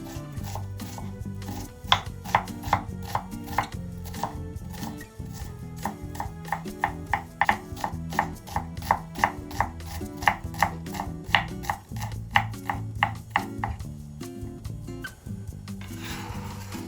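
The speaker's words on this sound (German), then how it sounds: "Ich nehme eine mittelgroße Zwiebel, schneide die Enden ab, ziehe die Schale ab und würfle sie fein." A knife finely dicing a medium onion on a cutting board, with a long run of quick, crisp, evenly spaced chops, close and clear, with brief pauses between bursts.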